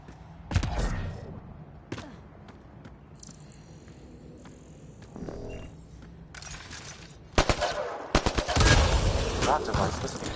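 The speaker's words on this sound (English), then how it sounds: "Shooting the device will destroy it." Gunfire in Mass Effect: Andromeda aimed at a Kett device, with a sharp shot near the start, another at about two seconds, and a dense, loud burst of rapid shots in the last three seconds over low game ambience.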